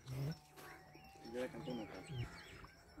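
An agitated goat on a Punjab farm bleats in a few short, harsh calls near the microphone, with faint bird chirps and a person speaking alongside.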